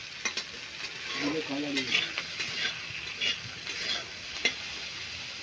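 Potatoes and tomatoes fry in a pan with a soft sizzle, while a utensil scrapes and clatters in repeated stirring strokes; a voice speaks briefly underneath.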